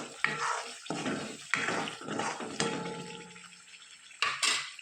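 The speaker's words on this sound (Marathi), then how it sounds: "त्यामध्ये कोरडे मसाले टाकून छान परतून घेऊ" Dry spices such as Kashmiri chili, red chili, turmeric and coriander powder sautéing in hot oil for paneer curry, with a close, loud hiss and repeated scraping strokes of a ladle against the pan.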